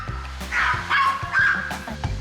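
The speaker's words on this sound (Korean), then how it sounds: "소리의 근원지를 찾아가 보니 여기 또 다른 천국이 펼쳐졌다. 바로 멍멍이들 천국." Dogs bark and yip at an outdoor pet playground by the seaside: a few close, sharp yelping bursts that rise and fall over a couple of seconds, with no talking.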